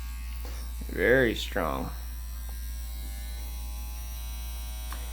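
CPT INK Captain One tattoo machine running at 8 volts for lining, giving a steady, even electric buzz that holds throughout, with a short spoken remark over it near the start.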